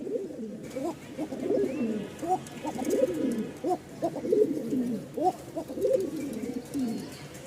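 Pouter pigeons coo steadily in a soft, throaty, repeating rhythm, several birds layered at close range over faint background hiss.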